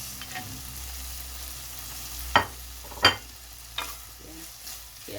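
Potatoes and carrots going into a hot frying pan with oil, giving a steady low sizzle with a few sharp clattering stir and drop sounds, close and moderately quiet, no voices.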